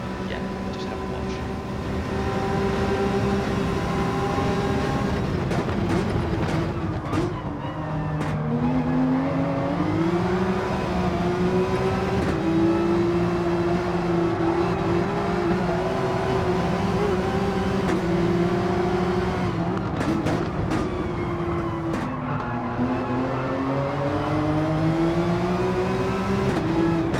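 Race cars roar around the Deep Forest circuit in a racing video game, engines droning steadily with rising and falling pitch as they shift through the last laps, loud and continuous throughout.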